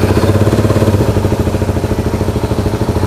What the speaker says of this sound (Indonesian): Langsung aja kita coba untuk menyalakan mesin kendaraannya.